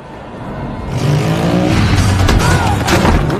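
A motorcycle engine taken from a gang member revs hard during a street escape in the 2019 John Wick film, a loud sustained roar that builds after the first second and stays close and dense to the end.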